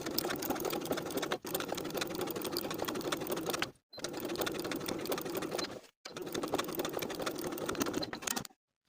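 A sewing machine stitches a coat's lining and sleeve edges together in three close, steady runs, its rapid mechanical chatter separated by short pauses.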